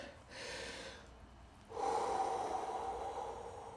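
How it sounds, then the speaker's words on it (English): Deliberate deep breathing, first a soft inhale and then a louder, longer breath drawn close to the microphone, with no talking. "Intentional breathing."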